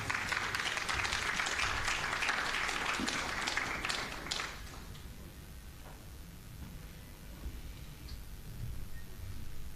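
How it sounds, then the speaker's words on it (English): Audience applause for the chairman of a manufacturers technical working group at a business information session for small tourism enterprises, steady clapping for about four seconds, then fading into quiet room murmur. "Can you give him a round of applause, please?"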